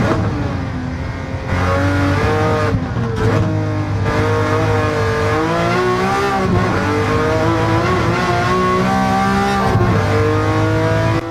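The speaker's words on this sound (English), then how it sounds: "this Ferrari sounds incredible. Just listen to this." A high-revving Ferrari racing engine in the video game Gran Turismo 7 roars steadily and loudly, its pitch climbing and dropping through gear changes for several seconds, no voices.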